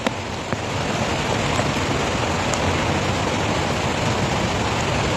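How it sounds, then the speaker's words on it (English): Steady heavy rain falls as a loud, dense, even hiss close by, continuous from start to finish with no talk. "Rain. See now, see rain."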